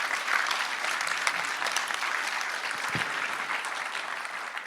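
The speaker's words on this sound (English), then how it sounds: "Big round of applause for Letiel" A conference audience of developers gives a sustained round of clapping, even and moderately loud, filling the room without talk over it.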